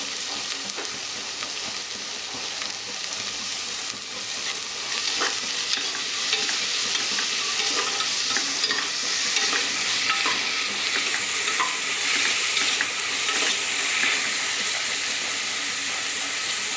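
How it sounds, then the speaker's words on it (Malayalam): Onions sautéing with salt in a pan while cooking chicken, a steady close sizzle and hiss with occasional stirring scrapes, continuous and fairly loud with no voices. "സവാള നന്നായിട്ട് വഴഞ്ഞു വരട്ടെ."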